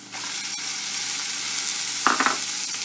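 Tomatoes are tipped into a hot pan for mutton curry, giving a loud, steady close-up sizzle of frying, with a brief burst of sharper crackle and a small clatter near the end.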